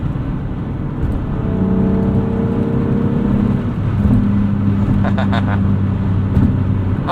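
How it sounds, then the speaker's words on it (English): A high-mileage BMW E36 M3 with the 24-valve engine hums smoothly and steadily, with a low, even drone and slight rises in pitch. A few brief higher clicks or chirps appear near the end. "This hum is a lot more refined."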